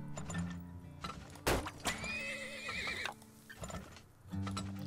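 A horse neighs in the oil-drilling game Turmoil, a clear whinny in the middle of the clip with hoof clops and thuds around it, set over soft background game music.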